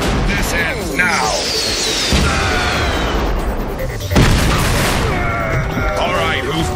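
Cartoon robot battle with laser zaps and missile blasts: rapid booming explosions and sweeping energy shots overlap continuously, loud and close, while shouting voices cut through the barrage.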